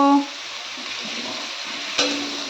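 Spice paste is stirred in a pan over a low gas flame, giving a steady soft sizzle and scraping; near the end a splash of water from rinsing the spice bowl hits the pan with a brief burst.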